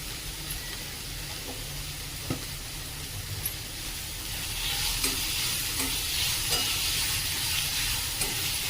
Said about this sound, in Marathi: थोडा कांदा परतून घेऊया